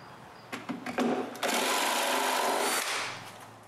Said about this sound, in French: avec le toupie, je coupe autour des trous.